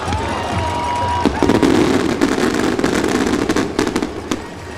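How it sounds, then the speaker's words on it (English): A fireworks display bursts before a high school football playoff game in Ohio, rapid crackling pops and bangs over a cheering stadium crowd, loud and dense, tapering near the end. "I don't think you're going to find a better fireworks display to bring out a football team that Triway has."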